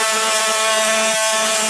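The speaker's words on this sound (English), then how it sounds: "I'm making him do it with this multi-tool." Oscillating multi-tool cutting drywall inside an arched doorway frame, a loud, steady buzzing whine with a dense harmonic drone that holds without pause, close up and alone.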